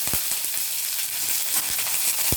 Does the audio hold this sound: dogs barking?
no